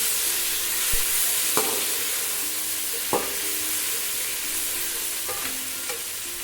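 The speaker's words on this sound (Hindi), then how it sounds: "ये अब हम इसमें दूसरी वाली भिंडी शामिल कर देंगे और इसको भी हमने इसी तरह फ्राई कर लेना" Okra frying in a pan for an okra and meat dish, with a steady broadband sizzle throughout and a few sharp clacks of a utensil stirring against the pan, close and alone with no talking.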